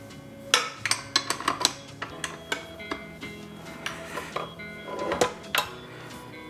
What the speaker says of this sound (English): Gonna move the mixer. Attach the dough hook.